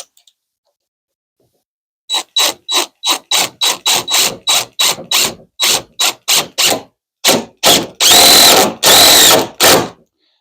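A power drill drives 2-inch self-tapping screws to fasten casters, sounding as a rapid run of short, loud bursts that grow into longer sustained whirs near the end, close up with no talking.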